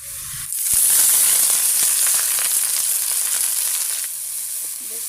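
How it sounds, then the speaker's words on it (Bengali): Leafy greens fried with onion in a pan give a loud hiss that starts suddenly and then holds steady, easing slightly toward the end. "দেখুন আমার শাক ভাজাটা প্রায় হয়ে আসছে"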